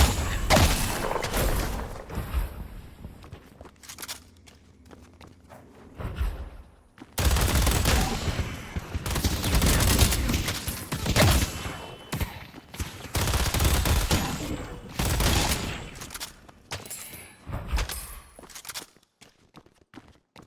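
Ivy's Rapid Throw ability in Deadlock, bursts of rapid-fire projectile shots coming in dense volleys separated by quieter gaps, with thuds and scattered impacts between the bursts.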